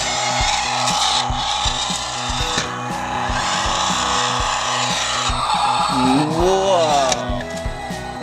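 Toy monster truck tires spinning with a whirring, scraping rush beneath loud, busy sound that fills the whole clip, with a rising squeal toward the end.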